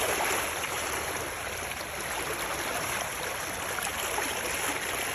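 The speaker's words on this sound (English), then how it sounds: "A lot of water here, like white rapids." Rough, fast creek water rushes like white rapids after flooding in Missouri, a dense, steady roar of churning flow close by that runs the whole time with no talk over it.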